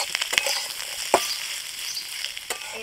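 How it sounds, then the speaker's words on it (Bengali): Capsicum is stir-fried in a pan for egg chilli, giving a continuous close sizzle with sharp scraping clicks from stirring at irregular intervals. "ক্যাপসিকামগুলো দিয়ে ভালো করে একটু নেড়ে নেব মিনিট দুয়েক মতো।"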